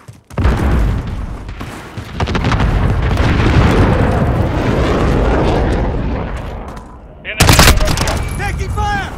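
Gunfire in the video game Call of Duty Modern Warfare during a team deathmatch: loud, sustained bursts of automatic fire with booming impacts, a brief pause, then another sharp volley with voice chatter.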